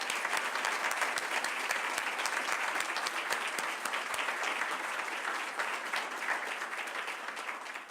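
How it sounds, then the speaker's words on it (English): An audience in a Boston City Council chamber applauds, with dense, steady clapping from many hands that holds through the whole stretch and tapers slightly at the end. "can we give President Wu a round of applause?"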